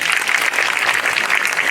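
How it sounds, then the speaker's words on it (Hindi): Audience at a Brahma Kumaris stress-relief retreat event in Surat clapping together, a dense, steady burst of applause filling the whole moment at even loudness. "तो फिर ताली तो बजाओ।"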